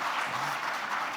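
An audience at a political summit claps in a steady, dense wash of applause, moderately distant and even throughout the short stretch.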